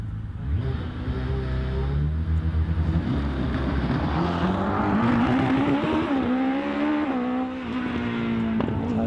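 A 2-litre class hillclimb race car climbs the hill at Prescott, its loud engine note continuous and rising and falling in pitch through gear changes as it accelerates, with no talk.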